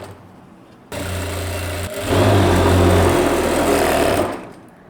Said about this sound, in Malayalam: കൈകൊണ്ട് ഹെം ചെയ്യാം, അല്ലെങ്കിൽ മിഷത്തിൽ തന്നെ വെച്ചിട്ട് പതിച്ചടിക്കാൻ പറ്റും